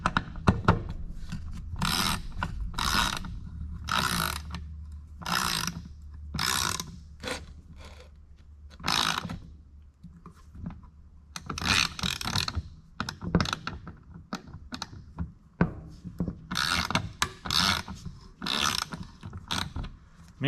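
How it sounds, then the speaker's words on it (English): Craftsman V Series 3/8-inch 96-tooth long-handle flex ratchet clicking in repeated bursts, with coarse, rapid ratcheting strokes separated by short pauses, close up and with no talking. "it works like any ratchet should these days, but it just seems a little more coarse than I would expect, being a 96 tooth"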